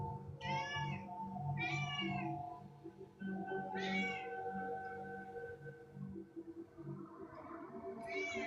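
An indoor cat gives several loud, drawn-out meows in a row with short pauses between them, over a low steady hum.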